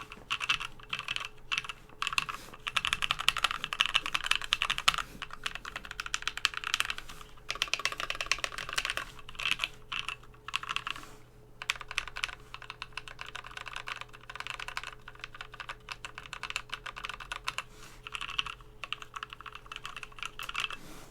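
Continuous typing on a Candybar tray-mount mechanical keyboard with no foam or dampeners, a steady patter of close, bright keystrokes with slight case ping, running unbroken and alone with no voices.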